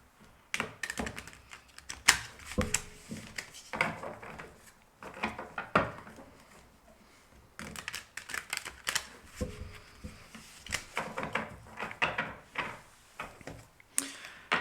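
Playing cards riffle and snap in several bursts, with brief pauses between shuffles, close and fairly quiet.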